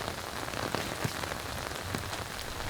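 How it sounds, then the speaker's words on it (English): Heavy rain pours steadily onto an outdoor disc golf course, a dense, continuous hiss of drops striking wet ground with scattered sharper splats, close and loud with no voices. "This is a lot of rain."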